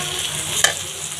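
Onion and garlic fry in a pan with turmeric, chili and coriander powders, giving a steady soft sizzle with one brief stirring scrape midway.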